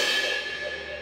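A cymbal's bright, shimmering wash sustains briefly and slowly fades, heard alone and moderately soft.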